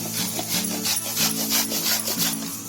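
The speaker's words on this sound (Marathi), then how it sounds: "हा असा गुळ किसून घ्यायचा मेथीच्या लाडूसाठी" Jaggery being grated by hand for fenugreek laddoos, a close, steady rasping scrape repeating in quick rhythmic strokes with no talking.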